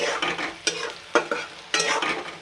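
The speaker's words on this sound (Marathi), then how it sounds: "थोडं मी एकदा हलवतो, 1 मिनिट ठेवतो." Sabudana khichdi frying in a pan and stirred with a utensil: a steady loud sizzle broken by several sharp scraping stirs, close and with no voices.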